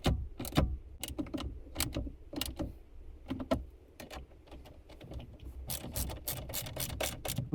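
Ratchet driving bolts while a Toyota Tacoma head unit is bolted back into the dash, short bursts of close, sharp clicking separated by brief pauses, fairly quiet.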